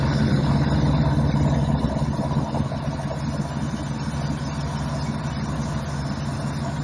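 A car engine idles in a steady, even drone with a low hum underneath, a little louder in the first couple of seconds, on a car being tested for a blown head gasket.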